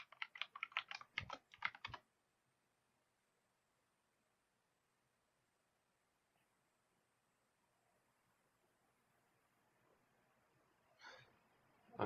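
A password is typed on a computer keyboard in a short, quick burst of close, crisp keystrokes, followed by a long near-silence and one faint later click.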